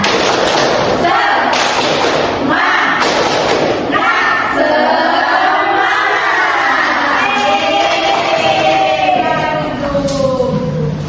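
A combined grade 4 and 6 primary-school class performs a rhythmic clapping cheer, loud and close, with bursts of claps and thumps followed by children chanting and shouting together.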